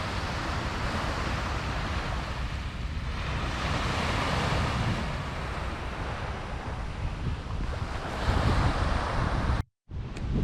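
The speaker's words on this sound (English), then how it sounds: "I'll let you listen to the water just for a second or so." Water waves lap and wash steadily at a Singapore marina, a broad, continuous rushing with wind buffeting the microphone, loud and close, with a brief dropout near the end and no voices.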